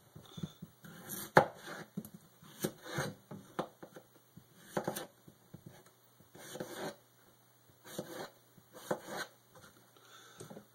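A sharp knife cutting through potatoes on a board, producing irregular bursts of crisp slicing and tapping with short pauses between them, close but quiet, with no talking.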